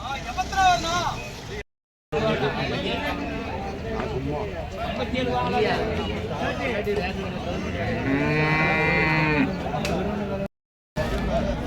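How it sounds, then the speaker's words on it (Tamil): Cattle lowing and mooing amid a busy outdoor crowd at a cattle market in Karungalpalayam, Erode, India, with people talking throughout and occasional vehicle noise in the background. "இந்த மாடு பாருங்கள்"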